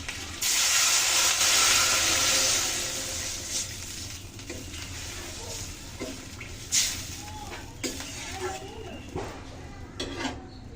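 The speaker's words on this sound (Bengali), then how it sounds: "ঝাঙ্গাগুলোকে একটু হালকা করে ভেজে নিয়েছি এখন জল দিয়ে দিচ্ছি" Water poured into a hot pan of lightly fried tengra fish bursts into a loud, hissing sizzle that swells, then settles into softer bubbling with a few metallic clinks of utensils against the pan.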